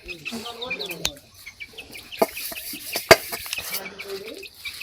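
Native-breed chicks cluck and chirp nearby in short repeated calls, mixed with people talking and a few sharp knocks.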